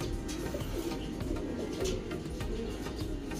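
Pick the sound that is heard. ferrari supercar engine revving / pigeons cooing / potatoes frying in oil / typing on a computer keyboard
pigeons cooing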